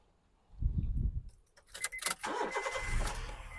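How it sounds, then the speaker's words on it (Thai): Keys jingle, then a 2008 Honda City engine cranks and starts on the first try nearby, settling into a steady idle. "เดี๋ยวเรามาดูในส่วนห้องเครื่องและฟังเสียงเครื่องยนต์กันบ้างนะครับ"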